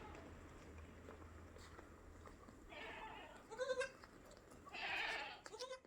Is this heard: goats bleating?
yes